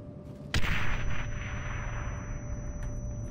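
A grenade blows up in a PS3 Battlefield game with one sharp, loud blast, and a rumbling roar trails off behind it over a few seconds. No one speaks.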